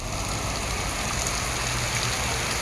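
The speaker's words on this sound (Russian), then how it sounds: "Дождь не прекращается с самого утра, уже практически 5 часов вечера." Steady rain pours down over Cuba's Viñales Valley in the off season, a dense, even hiss of drops on surfaces that stays constant throughout with no voices.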